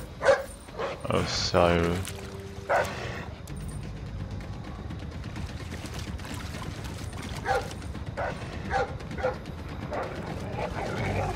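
A dog barks and yips in the stealth video game Splinter Cell Blacklist, sharp loud bursts near the start and again later over a steady rushing game ambience, with someone speaking briefly.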